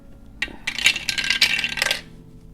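Dice clattering and rolling across a hard surface, a rapid rattling burst of small hard clicks lasting about a second and a half, close and fairly loud with no talking.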